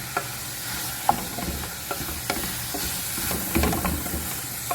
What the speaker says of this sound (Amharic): በዚህ መልኩ በደንብ ከዘይትና ከሽንኩርቱ ጋር አሽቸዋለሁ